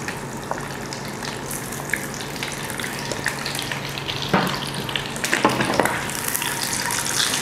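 Boiled eggs going into a small pan of hot oil and butter cubes, a continuous frying hiss that swells louder near the end as they hit the fat, with no talking.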